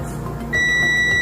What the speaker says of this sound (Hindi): यहाँ भी बीप आया।